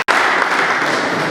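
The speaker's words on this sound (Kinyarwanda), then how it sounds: "Nagira ngo munteze amashyi nabo tubashimire cyane." Audience applause at a company event, a dense steady patter of many hands clapping that begins abruptly after a brief silence and holds at a loud level without voices.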